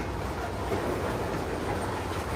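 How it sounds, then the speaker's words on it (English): CSX switching train reversing slowly back into a rail yard, heard from high above on a cliff: a steady, dense rumble of rolling cars with a faint clickety-clack, continuous and moderately loud throughout with no voices. "As that train reverses back into the yard."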